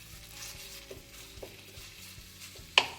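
Minced meat fries in vegetable oil in a pan with a low, steady sizzle, broken by occasional spoon scrapes and taps and one sharp clink near the end, with no talking.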